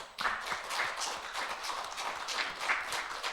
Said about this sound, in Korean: 우리 한 박수 한번 하십시다.